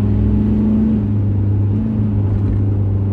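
A 2025 Toyota HiLux Rogue 48V hybrid V-Active 4x4 ute pulls hard in Sport mode, a steady low engine drone and road rumble heard from inside the cabin, with no talking.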